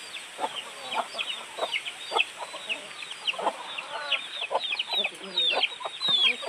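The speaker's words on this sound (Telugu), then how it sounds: "ఇంకా చూడండి ఎన్ని కోళ్ళు ఉన్నాయి" Many chickens cluck and chatter continuously at once, a busy flock close by with soft rustling underneath.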